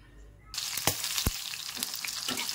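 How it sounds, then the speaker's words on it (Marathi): Thinly sliced green chillies drop into hot oil and burst into a loud, close crackling sizzle, with a few sharp pops and spatters as they fry. "ह्या दोन्ही मिरच्या आपल्याला त्या तेलामध्ये तळून घ्यायच्या आहेत।"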